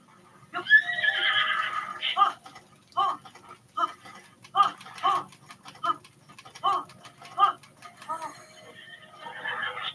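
A tamed horse in the game Zelda: Tears of the Kingdom neighs with a long whinny, followed by a run of short snorts and nickers, fairly close, while a person talks over it.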